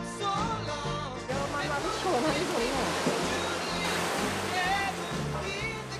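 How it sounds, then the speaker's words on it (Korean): Mountain stream water rushes steadily throughout in Hangol valley, Jeongseon, Gangwon Province, Korea, while a person talks over it. "물소리만 들어도 가슴이 뻥 뚫린다는 물 명당이라죠"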